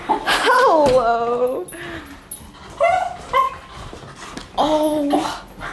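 An excited dog yips, barks and whimpers in several close, loud bursts with pauses between them.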